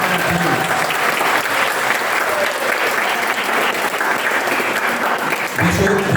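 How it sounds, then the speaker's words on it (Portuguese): A church congregation at an outdoor baptism service applauds loudly and continuously, a thick wash of clapping with crowd noise and occasional voices underneath. "Vamos aplaudir a Deus por esse irmão?"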